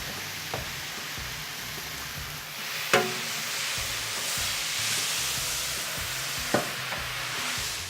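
Long-grain rice, onions, garlic and peppers sizzle steadily in a pan for paella while a utensil stirs them, a constant close frying hiss broken by a few sharp scrapes and knocks against the pan.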